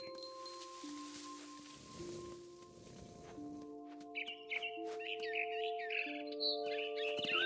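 Birds chirp in the video game What Remains of Edith Finch, with a quick run of twittering calls over a steady ambient music drone.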